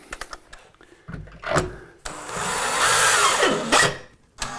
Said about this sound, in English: So I'm pre-drilling with a 1/8 bit.